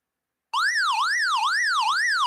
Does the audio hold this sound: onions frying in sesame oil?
no